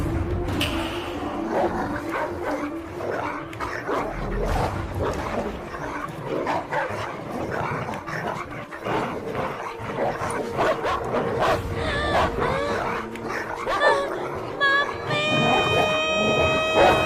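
Dogs set loose on a young girl bark amid a busy, loud scene, with clamor running throughout and a sustained tone near the end.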